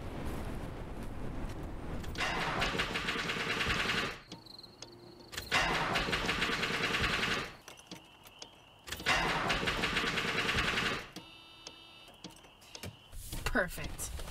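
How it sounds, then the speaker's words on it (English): A car engine cranks but fails to start, with three long, loud starter-motor whirs of a few seconds each separated by quieter pauses. "this car can never start when I need it to."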